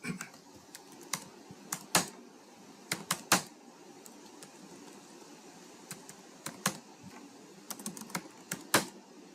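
Computer keyboard typing while entering data into vegetable patty commission billing software, with bursts of fast keystrokes and sharp louder key taps scattered irregularly throughout, close and clear against a quiet room.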